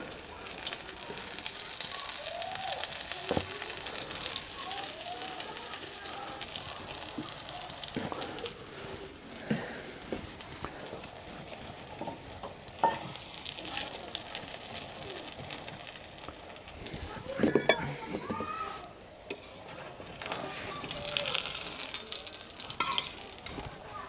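Makki ki roti, a maize flatbread, cooks in generous desi ghee over a wood fire, giving a soft, continuous sizzle with occasional sharper crackles and scraping, and no talk.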